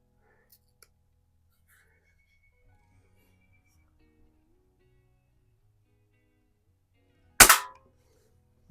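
Single sharp shot from an 1892 Markham King BB gun striking through a can, a brief crisp crack standing out loudly against near silence, with faint whispered speech and small clicks before it.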